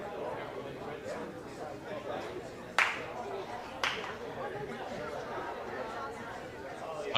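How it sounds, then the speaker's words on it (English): Two single hand claps ring out a second apart at a ninja obstacle-course competition, sharp and fairly close, over steady background chatter and a talking voice. "Hunter down there giving us a round of applause for the awesome job we're doing up here."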